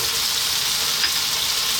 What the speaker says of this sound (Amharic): ድንቻችን ካሮታችን እየተጠበሰ ነው